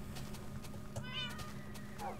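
Cats meow in a Minecraft game, a couple of short synthetic mews rising over a low steady background hum, fairly quiet, with no talking.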